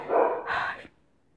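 A dog barks twice in quick succession, loud and close, and then the sound cuts to near silence.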